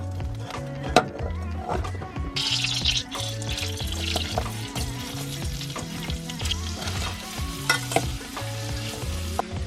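Chopped leek sizzles steadily in melted butter and oil in a saucepan, a loud continuous frying hiss broken by repeated stirring scrapes and clatters, with no talking.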